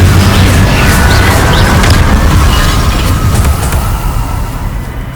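An Incendio fire spell cast in Hogwarts Legacy, heard as a loud, roaring burst of flame and rumbling impact that fills the clip and slowly fades toward the end.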